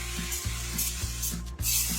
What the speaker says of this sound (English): I have sort of like a high crust pie tin, and I'm going to give that a quick spray.